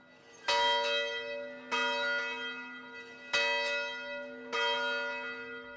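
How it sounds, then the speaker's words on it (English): A church bell at the cathedral in Salt Lake City tolls four times at an even pace, each ringing strike leaving a long humming resonance that overlaps the next, heard alone at moderate distance. "This is the only church bell ringing in Salt Lake City."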